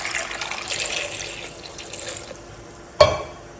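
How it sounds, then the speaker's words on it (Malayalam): Water pours into a cooking pot holding lemons for pickle, a soft running trickle through the first seconds that fades out, then a single sharp knock or splash near the end. "ഞാൻ കുറച്ച് വെള്ളം ഒഴിക്കുന്നുണ്ട്."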